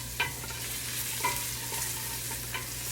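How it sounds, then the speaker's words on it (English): Garlic sizzles steadily in a minestrone pot full of softened vegetables and herbs, with a few soft scrapes of stirring over the constant frying hiss. "garlic going in. Stir that around so the garlic smells good."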